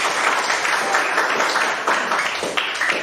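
Classroom applause during a technical drawing lesson on mechanical engineering, a dense, steady patter of student clapping filling the room for about three seconds, fairly loud and close, with no talk over it.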